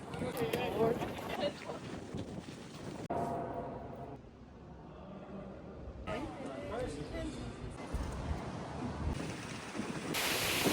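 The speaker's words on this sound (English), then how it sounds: "it is so windy right now" Strong gusts in Bratislava, Slovakia batter the microphone in rough, roaring bursts, briefly easing before surging again, with a voice speaking underneath.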